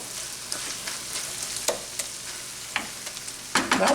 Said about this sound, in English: You can see it's simmering nicely